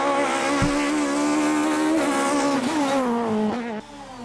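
A Peugeot 306 Maxi Evo rally car at a hillclimb revs hard. The loud, high-pitched engine note holds steady, climbs and wavers as the throttle is worked, then drops away near the end.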